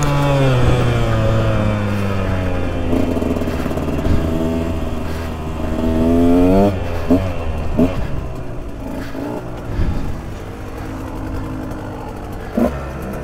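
A 2022 KTM 125XC two-stroke dirt bike with an FMF Factory Fatty exhaust revs up through several sharp blips, then settles into a buzzy idle. The engine is close and loud.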